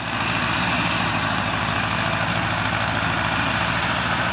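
An International 240 tractor, a 35 horsepower, 3,000 pound machine, runs steadily while mowing knee-high lawn, its engine droning loud and continuous with a throbbing low rumble and no voices.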